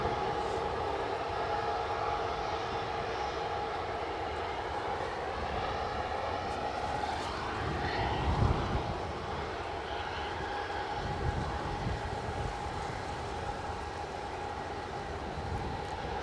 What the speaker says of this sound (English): an Embraer 190 standard, 10 years of age, is well into finals